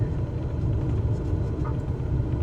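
A plane in a VR flight simulator coming in fast and braking on the runway at Meigs Field, heard as a steady loud low engine and rolling rumble that holds even throughout.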